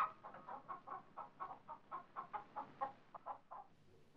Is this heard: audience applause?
no